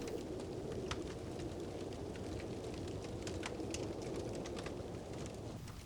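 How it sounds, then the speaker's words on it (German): A crackling fireplace fire with steady rain in a cozy mountain hut, heard as a continuous soft hiss with scattered small pops and crackles, even and fairly quiet throughout. "Das Kaminfeuer knistert und verbreitet eine behagliche Wärme"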